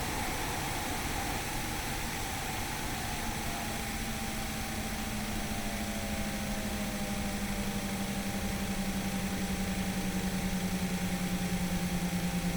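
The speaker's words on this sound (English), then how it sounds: "then we can shut down the engines" Aircraft engines in a flight simulator spooling down: a steady loud whine and broadband roar with tones gliding slowly lower over several seconds, no voices.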